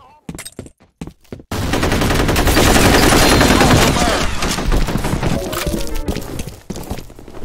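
Gunfire in a F.E.A.R. multiplayer match: a few scattered close shots, then a loud sustained automatic barrage that roars continuously for several seconds before gradually thinning out.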